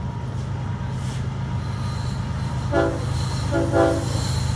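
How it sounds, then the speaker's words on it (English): A BNSF freight train rumbles steadily nearby at Carkeek Park in Seattle as its horn sounds two short blasts in quick succession over the rolling wheel noise. "horn honks."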